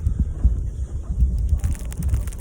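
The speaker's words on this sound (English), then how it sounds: "you can see how fucking windy it is." Strong blizzard wind batters the microphone with continuous low rumbling gusts that rise and fall on a cold night street, loud and close with no voices.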